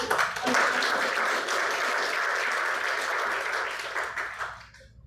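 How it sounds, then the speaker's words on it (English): An audience gives a sustained round of applause for youth leaders at an evening meeting. The dense, steady clapping holds for several seconds, then thins and fades out. "let's give a round of applause for youth leaders."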